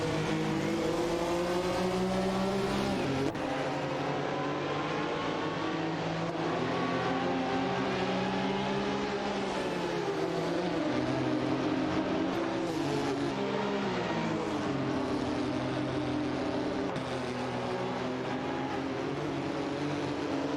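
Racing cars in a video game, among them a Dawa 962 Elm and a Porsche 920 Tone, drone and rev steadily at high volume, engine pitches rising and falling as cars jostle for position.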